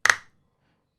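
A single sharp hand clap rings out alone and decays quickly, marking a whole note in a beginner rhythm exercise.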